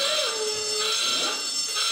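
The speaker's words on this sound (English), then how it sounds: "Fingers on buzzers, please." A quiz show buzzer on a television panel game sounds a sustained electronic tone, steady and fairly clear for under two seconds, with faint studio murmur beneath.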